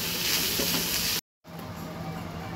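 Ginger, chili and garlic paste frying in a pan with potatoes, turmeric and salt, a loud dense sizzle that cuts out briefly and resumes slightly quieter.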